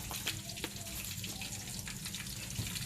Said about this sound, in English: My pot is boiling here with water and the onions and the garlic.